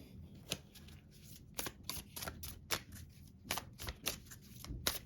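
Tarot cards being shuffled, a quiet run of rapid papery riffles and flicks in uneven bursts, close and soft with no talking.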